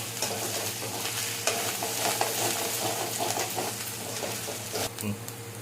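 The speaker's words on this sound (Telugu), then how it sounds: "ఆనియన్ గార్లిక్ పేస్ట్ అయితే పచ్చివాసన పోయినంత వరకు ఫ్రై చేసుకోవాలండి" Onion garlic paste fries in a pan for a paneer green peas curry, a close, steady sizzle broken by scraping stirs.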